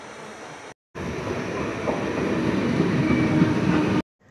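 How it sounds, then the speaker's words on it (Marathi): A train rolls in with a loud, steady rumble and rattle of wagons, faint squeals and clicks building slightly, briefly cut off at the start and end. "ट्रेन पण येईल, तिकडनं ट्रेन येईल"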